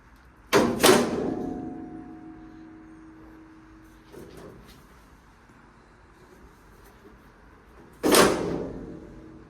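A 1951 Chevrolet truck bed tilts on scissor hinges, giving two sharp metallic clanks a few seconds apart, with a fainter knock between them and a low steady hum underneath.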